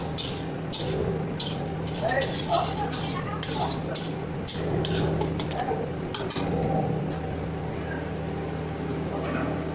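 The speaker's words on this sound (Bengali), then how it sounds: "একটু নাড়াচাড়া দিয়ে দিতে হবে।" A spoon stirring tengra fish curry with potato and bitter gourd in a pan, with irregular metallic clinks and scrapes over a steady low kitchen hum, while a voice talks throughout.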